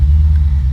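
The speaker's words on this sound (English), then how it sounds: "I'm just excited to show off how easy it is to start this car" A 1988 Corvette's engine roaring right after start-up: a loud, close, steady low rumble filling the brief moment, with no talking.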